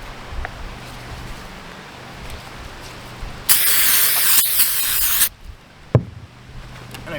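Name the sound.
brake cleaner spraying onto RV roof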